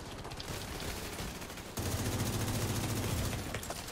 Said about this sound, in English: Man, they're shooting.